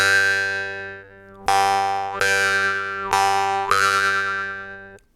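A jaw harp sounds a sustained unison drone, its bright twangy overtones shifting with each of several re-plucked attacks, close and alone without talk.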